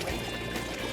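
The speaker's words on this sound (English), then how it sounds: "the water rushes in." Water pours into a sinking car with a continuous, dense gushing rush, close and steady throughout.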